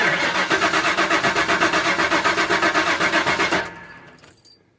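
Engine cranking with a rapid, even starter rhythm for about three and a half seconds, loud and close, then cutting off and fading into quiet, during a fuel injector noid light test on an early Bosch EV1 connector.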